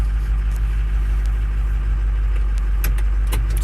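A 2005 car engine idles after a cold start with one misfiring cylinder, a steady loud low rumble with slight uneven pulses and a few faint ticks, close up with no talk.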